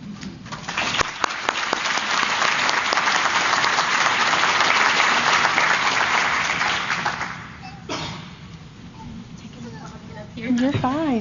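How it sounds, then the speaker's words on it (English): A 2024 Child Abuse Prevention Breakfast audience gives a sustained round of applause that swells and holds for several seconds, then fades out as a voice begins speaking near the end. "another round of applause"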